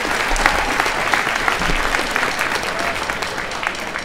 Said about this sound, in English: Let's give them a round of applause for that sense of confidence.